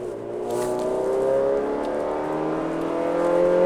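A Honda Civic with a naturally aspirated engine and opened-up exhaust revs up in a steady, rising drone, heard from inside the car at moderate level.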